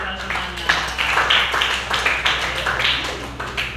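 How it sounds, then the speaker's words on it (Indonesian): Students in an Indonesian classroom clap together in a steady rhythmic pattern of close, bright claps that lasts throughout, with a group clapping routine led by a teacher. "Tepuk tangan untuk kita semuanya."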